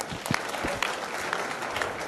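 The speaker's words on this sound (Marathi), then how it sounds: "या सर्वांसाठी जोरदार टाळ्या वाजा." An audience at a devotional gathering claps in moderate, sustained applause that continues evenly throughout, heard from a short distance.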